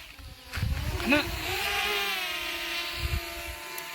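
A steady high-pitched whirring buzz of a small drone hovers nearby in a forest in Kaddam, holding a constant tone for several seconds, with brief voices underneath.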